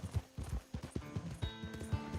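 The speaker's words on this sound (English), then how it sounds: "Maniac on the horse." Horse hooves clip-clop rapidly in a Western cowboy video game, a steady quick rhythm of hoof strikes up close with busy game audio underneath and a rider charging past.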